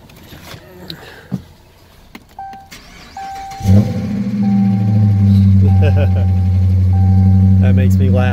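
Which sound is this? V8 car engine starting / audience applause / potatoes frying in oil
V8 car engine starting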